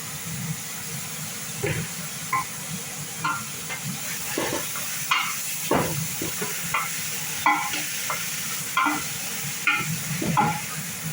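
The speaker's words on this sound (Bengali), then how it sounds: "এবার আমি একটু ভালো করে নাড়াচাড়া করে নিই" Meat being stirred in a pan with garlic and ginger for Saudi-style rose kabsa, a steady sizzle and hiss broken by repeated scraping, clattering strokes of a spoon against the pan, close and fairly loud, with no talking.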